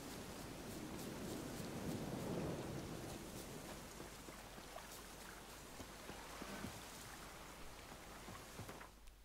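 Steady heavy rain and a thunderstorm in the Witcher 3 video game form a dense, continuous wash of rainfall with deeper rumbling swells, loud and enveloping throughout with no talking.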